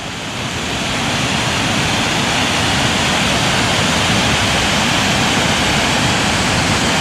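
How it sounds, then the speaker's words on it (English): A scenic waterfall on a walk near the Rochdale Canal at Hebden Bridge, roaring as a steady, dense broadband rush of falling water, loud and close, continuous throughout with no voices. "And here we are, our first waterfall."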